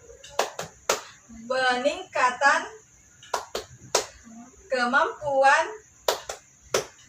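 A group does the rhythmic P2K2 clap chant at a PKH family-capability training session: sharp, close hand claps in short patterned bursts alternate with chanted spoken phrases.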